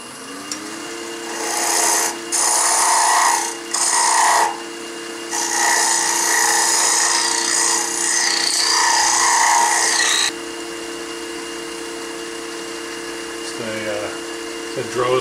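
A Drozda type box scraper, beveled on both sides, cuts wood spinning on a lathe, giving repeated rasping, scraping bursts over the steady hum of the machine, close up, with the passes ending and the lathe droning on.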